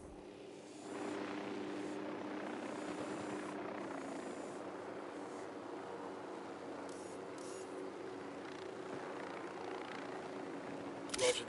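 A helicopter passes overhead during a tense armed raid, a steady broadband rotor and engine roar that holds at moderate level throughout, with no voices over it.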